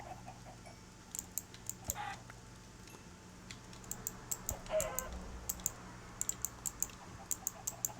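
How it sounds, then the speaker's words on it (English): Chickens clucking in Minecraft, scattered faint clucks under rapid, close computer keyboard typing and clicking that continue throughout. "Oh, there's just so many chickens, they're everywhere"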